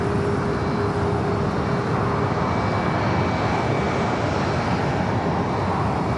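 A cargo jet, a converted A330-200, arrives at LAX, its engines producing a steady, moderately loud broadband roar with a faint whine, heard alone without talk.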